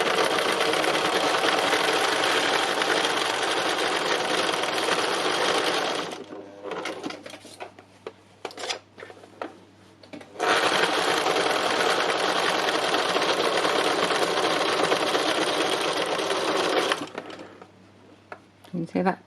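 Sewing machine doing free machine embroidery, running in two long loud continuous bursts of rapid stitching separated by a quieter pause with small handling noises.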